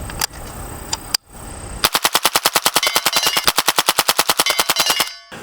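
A PSA Jakl 300 Blackout rifle fitted with a Diligent Defense Enticer S suppressor and an Atrius Super Selktor fires supersonic rounds. Two single shots come first, then one long, fast string of about thirty evenly spaced cracks, loud and close.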